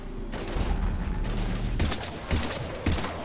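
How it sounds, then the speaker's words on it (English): Heavy gunfire in a Mass Effect 3 battle: dense, continuous bursts of close shots and rattling fire, with a few sharper blasts standing out toward the end and no talk. "I've got Lieutenant Vega with me, but we're taking heavy fire."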